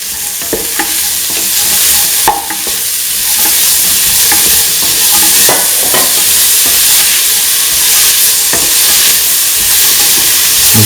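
A spice paste sautés in a hot pan for a chickpea, snake gourd and coconut milk rice dish, giving a loud, continuous sizzle close by, broken by occasional scraping clicks of stirring.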